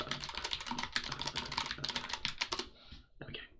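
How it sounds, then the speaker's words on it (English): Rapid keystrokes on a computer keyboard, a dense run of quick clicks for about three seconds, then a brief pause and a few final taps, heard close and alone with no voices. "I'm going to type in chat."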